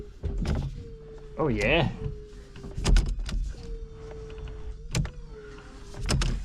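Electric power steering motor fitted to a Reliant Scimitar, a steady whirring hum that runs in several stretches with brief clunks between them, close by, with a short spoken exclamation over it.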